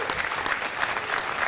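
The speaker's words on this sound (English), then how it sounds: "Let's give a round of applause for Manhasset" A community gathering breaks into a round of applause, with dense, even clapping from a crowd that stays steady throughout and no voices over it.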